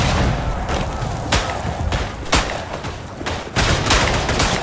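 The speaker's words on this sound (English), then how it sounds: "Couldn't get away from the grenade." A grenade explosion and dense rifle fire in the World War I shooter Verdun, with loud overlapping shots and booming blasts pounding continuously, close and harsh.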